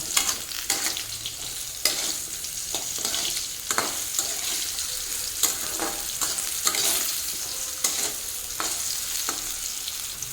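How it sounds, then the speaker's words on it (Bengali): Bitter gourd fries over a high flame, a constant bright sizzle cut by repeated scraping strokes as the pieces are turned and stirred, close and even in rhythm. "এখন আমি ফ্লেমটাকে হাই করে দেবো, আর উল্টে পাল্টে একটু ভালো করে ভেজে নেব।"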